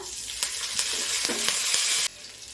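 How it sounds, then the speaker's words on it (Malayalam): Cumin, fennel, pepper and curry leaves sizzling in hot oil for frying coconut, a dense close crackle with a few stirring scrapes, cutting off abruptly near the end. "എണ്ണ ഒഴിച്ചു കൊടുക്കാം എന്നിട്ട് നമ്മുടെ ജീരകം പെരിഞ്ചീരകം കുരുമുളക് കറിവേപ്പില"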